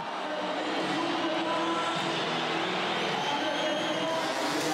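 Freestyle motocross motorcycles at full throttle give a steady, dense engine roar that stays fairly even and moderately loud throughout.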